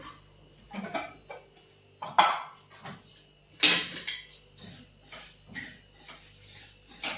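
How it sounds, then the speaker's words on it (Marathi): Jaggery being grated by hand in a home kitchen, a series of short rasping scrapes coming in irregular bursts with faint clinks of utensils between them, close and moderately quiet, with no talking. "तोपर्यंत गूळ जो आहे ना तो मी किसून घेते आहे"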